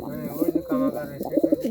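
Pigeons coo close by in soft, rolling repeated phrases, a few overlapping calls with low murmuring throughout.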